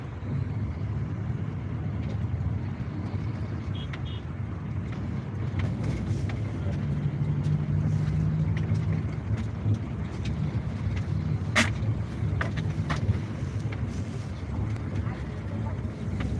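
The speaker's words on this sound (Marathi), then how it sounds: "आता रात्रीला गाडीमध्ये बसून गावाकडे चाललो आहोत" A car travels a road at night toward a village, its steady low engine and road rumble mixed with wind buffeting, continuous throughout with occasional faint voices.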